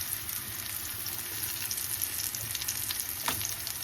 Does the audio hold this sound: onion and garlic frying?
yes